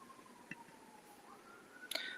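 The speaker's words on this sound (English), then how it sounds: "Somebody's in trouble. I hear a siren." A faint, distant siren holds a steady wail that dips and then rises again, heard far off beneath a quiet background with a few small clicks.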